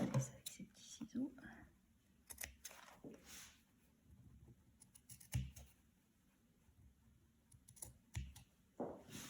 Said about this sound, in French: Je suis pas à l'aise avec ces petits ciseaux.